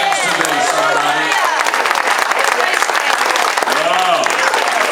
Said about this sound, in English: Oh, clap your hands today, somebody.